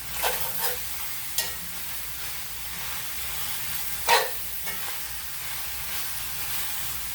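Potatoes fry in a big skillet, a continuous close sizzle broken by several scraping stirs of a utensil against the pan, one especially loud stir midway, with no voices.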